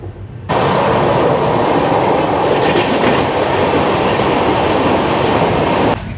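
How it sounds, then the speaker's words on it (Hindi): A Garib Rath Express on the Mumbai to Goa line runs at roughly 75 km/h, its wheels rumbling and clattering steadily on the rails. The roar is loud and close, as heard from inside a carriage, with no talking. "हमारी ट्रेन 74 75 किलोमीटर की बराबर की स्पीड से"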